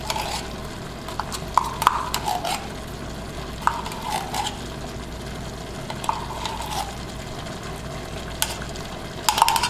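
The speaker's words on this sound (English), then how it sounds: "now I'm going to take that can of tomato paste and spoon it in there" Tomato paste spooned from a can into a simmering homemade spaghetti sauce with ground beef, heard as soft scrapes and occasional sharp spoon taps against the pot over a low steady bubbling.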